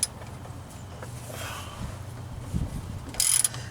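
A hand ratchet clicks on a 10mm nut at the fuel filter of a Jeep Wrangler YJ, giving close mechanical ratcheting with a brief sharper burst near the end.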